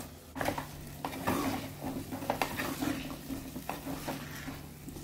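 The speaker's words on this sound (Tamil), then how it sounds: "கத்திரிக்காயும் தக்காளியும் நல்லா வதங்குது" Eggplant and tomato sautéing in a pan for a spicy kara kuzhambu, soft sizzling under a run of spoon scrapes and taps against the pan, fairly quiet and close, no speech.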